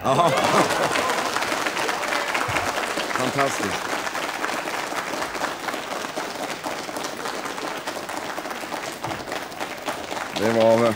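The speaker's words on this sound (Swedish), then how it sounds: "10-8 som verkligen var värd en lång applåd" Long, sustained applause from the audience at a 1970 table tennis exhibition match between Kjell Johansson and Hans Alsér, dense and even clapping that fills the room throughout, with a voice rising near the end.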